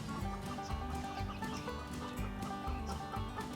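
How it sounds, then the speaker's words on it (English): A dense, continuous din of chickens clucking, cackling and crowing, with many birds overlapping nearby and no pauses, in the morning. "You come out here and try to video and there's crowing and cackling."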